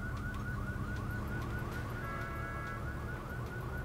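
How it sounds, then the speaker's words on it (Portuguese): Car alarm blaring in the Sleeping Dogs video game, a steady repeating electronic warble that sounds nonstop over a dense background of game noise. "Tocou algum alarme loucaço."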